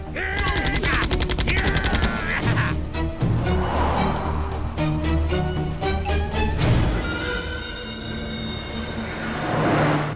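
A comedy film scene carries loud, rapid bursts of gunfire in quick repeated volleys, mixed with other busy soundtrack noise.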